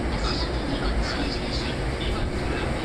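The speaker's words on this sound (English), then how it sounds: "A maroon-colored train is arriving." Maroon Hankyu semi-express train pulling into a station, a dense, loud rumble of wheels and carriages rolling past at close range without pause.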